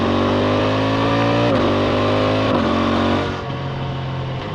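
A 2025 CFMoto 800 MT-X motorcycle engine drones loudly and steadily while riding on German roads, its pitch gently rising, then dropping to a lower, softer note as the throttle eases.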